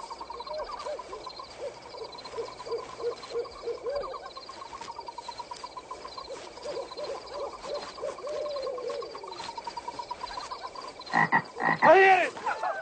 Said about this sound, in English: That is only a frog croaking in the pond.